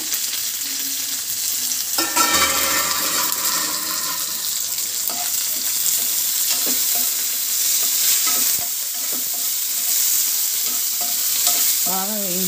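Mint leaves and green chillies frying for tomato chutney, a steady sizzle with a spatula stirring and scraping the pan in bursts and a brief splash of water partway through, close and with no talking.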